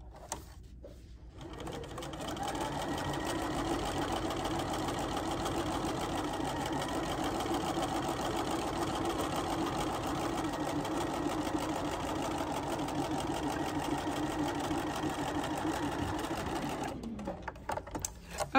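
A sewing machine stitching a crosshair gridded quilting design, a steady fast mechanical whir and chatter running for about fifteen seconds, fairly quiet and close, starting and stopping cleanly.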